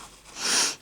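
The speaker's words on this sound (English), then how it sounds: "Sorry about the sniffling." A single sniffle from a person doing embroidery and beading, a short breathy hiss rising and fading close to the mic, with no talk.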